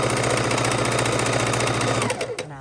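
Sewing machine stitching quilt pieces together, a close, fast, even needle clatter running steadily for a couple of seconds before stopping abruptly.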